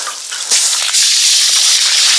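Water is poured with a close, loud splashing gush that starts after a short pause and keeps going steadily to the end.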